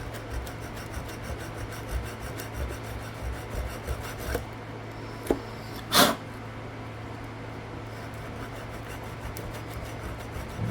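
A hand file rasps against an aluminum part on a Fiero GT, clearancing it in steady, close back-and-forth strokes, with a couple of brief louder knocks near the middle.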